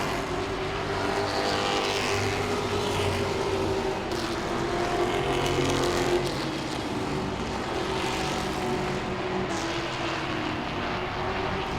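Grand Stocks race cars roar continuously around Langley Speedway, engines droning and surging as they pass, loud and steady with no talking.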